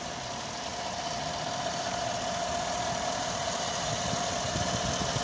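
A 2017 Chevrolet Silverado Z71 pickup's 5.3-liter V8 idles evenly and continuously at close range, with a low rumble and faint mechanical vibration, no voices.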